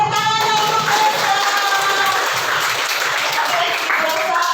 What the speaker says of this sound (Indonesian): Oke, tepuk tangan untuk Desa.